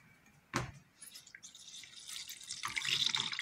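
A thick sunflower-oil glycerin detergent base is poured, starting with a clunk of the container, then a growing liquid trickle and splash that gets louder toward the end, close up with no talking.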